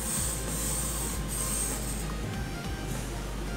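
A continuous close hiss of Schwarzkopf hairspray from an aerosol can, steady for several seconds with a slight rumble beneath.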